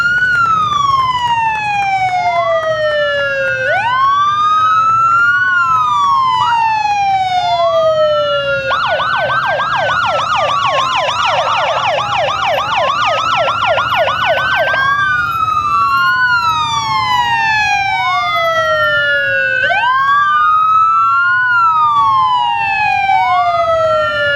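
Police motorcycles and vehicles in a Halloween parade in Linden, sounding loud, close wailing sirens that sweep up and down repeatedly, with a stretch of rapid yelping siren in the middle, over a steady street rumble.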